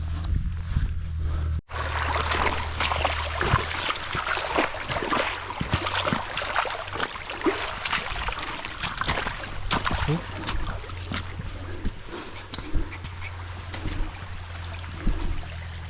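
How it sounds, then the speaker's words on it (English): A small brook flows along a hilly walking route, a steady broadband wash of running water close by, with occasional footsteps and faint voices beneath it. "It's a nice little brook, isn't it, to clean the old boots off."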